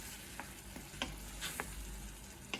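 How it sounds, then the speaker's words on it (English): Chicken sizzles quietly in a pan for an Indian curry, with a soft steady crackle and a few light clinks of stirring. "Then that's just going to sizzle away."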